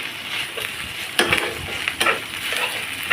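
Onions fry in a pan with garlic and a pinch of salt, a steady sizzling hiss broken by occasional scraping stirs of a spoon, close and moderately loud.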